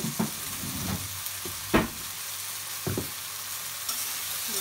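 Chili, turmeric and spices sautéing in a pan give a steady close sizzle, broken by a few louder scrapes and stirring knocks of a utensil, with no talk.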